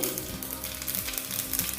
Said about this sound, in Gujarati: તેલ ગરમ થાય એટલે એમાં એક ટીસ્પૂન જેટલી રાય ઉમેરીશું ને રાયને ચટકવા દઈશું